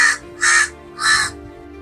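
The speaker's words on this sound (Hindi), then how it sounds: "इस आवाज़ को सुनने के बाद हमारे दिमाग में सीधा सा चित्र बनता है काले कौवे का" A crow caws three times in close succession, loud and near, each harsh call separated by a short pause.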